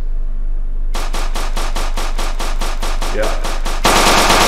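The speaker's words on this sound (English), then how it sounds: "we got a military NPC walking over here that will start to shoot at us in a second" A military NPC in a VR video game opens fire with a steady, rapid stream of loud automatic gunshots, evenly spaced and close, ending in a louder burst; a voice speaks briefly over it.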